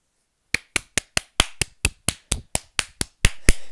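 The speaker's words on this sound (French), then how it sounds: "La maîtresse l'applaudit bien fort" A crisp, close clapping sound effect in a French children's audiobook: about a dozen sharp, separate claps in a steady rhythm that speeds up slightly toward the end, with no voices.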